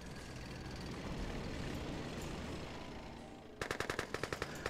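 A Red Alert 2 tank firing at the ground, a rapid string of sharp mechanical shots at a steady beat following a continuous rumbling engine drone, moderately loud and close.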